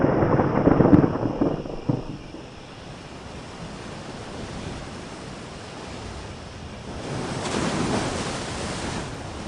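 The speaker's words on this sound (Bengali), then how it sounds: "শ্মশানের গায়ে হাওয়ার তাণ্ডব।" Stormy wind roars across a cremation ground in a continuous broad rush, surging loudly at the start and again near the end, with no voices.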